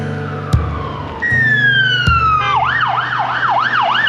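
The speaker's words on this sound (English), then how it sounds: "Oh, there's police. Very rare occasion that siren is working." A police siren whoops past, first a long falling tone, then a fast rising-and-falling wail, loud over background traffic thumps.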